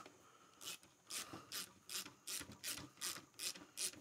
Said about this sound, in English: I'm just using a little 1/4 inch ratchet with a 7/16 socket on it